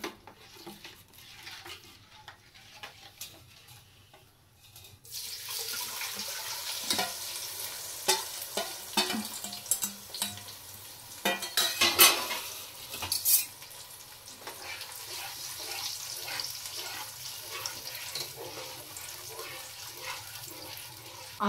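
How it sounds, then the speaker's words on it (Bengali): Spice paste of ginger, tomato, salt, turmeric, cumin, coriander and chaat masala frying in oil for jackfruit curry: quiet at first, then a dense crackling sizzle with continual stirring and scraping, close and sustained. "সব একসঙ্গে মিশিয়ে ওটাকে কষাচ্ছি"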